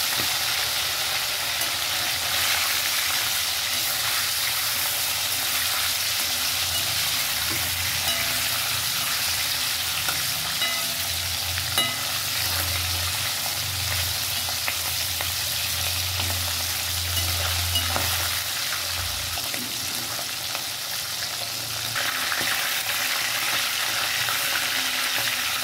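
Surmai fish sizzles steadily in hot oil in a pan, a loud continuous frying hiss with occasional crackles lasting throughout, no voices.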